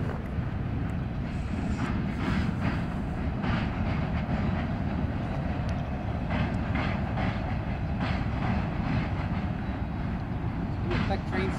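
A Norfolk Southern H53 freight train rolls past at Fort Erie, a loud, continuous rumble of rail cars with rhythmic clickety-clack and wheel noise close by, sustained throughout.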